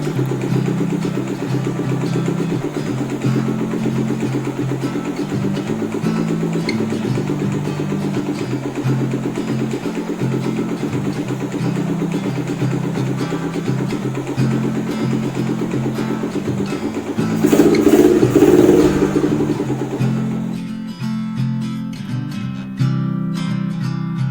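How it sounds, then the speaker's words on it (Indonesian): A Suzuki Thunder 250 motorcycle, long unused and with an ignition fault, warms up at a steady, close idle while its carburettor is adjusted. It rises in one brief rev near the end before settling back. "Biarin kita panasin dulu karena udah lama gak hidup ya motornya."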